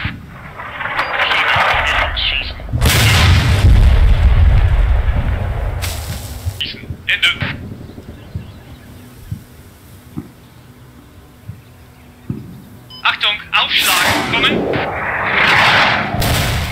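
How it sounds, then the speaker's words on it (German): An artillery strike in Combat Mission Shock Force 2 lands as heavy booming blasts and rumbling impacts, followed by scattered sharp reports, with radio chatter breaking in between. "Artillerieschlag freigegeben"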